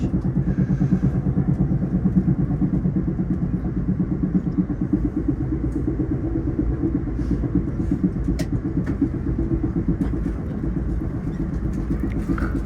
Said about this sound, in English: Up there are some sets of engines.